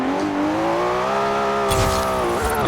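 An 800-horsepower car in the racing game Forza Horizon 4 holds a loud, close engine drone with a gently rising and falling pitch, and brief tire noise comes in toward the end.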